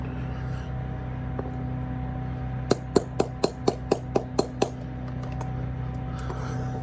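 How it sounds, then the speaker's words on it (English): About nine quick metallic taps of a small hammer on a brass button resting on a carpet mat, in an even rhythm, close and sharp against a low background hum. "I'll go ahead and hammer this down here."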